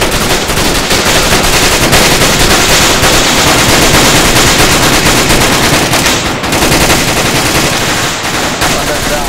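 Heavy sustained gunfire in the military game ARMA 3 after an order to open fire: loud, dense automatic bursts overlapping for several seconds, with brief dips and possible voices buried under the shooting.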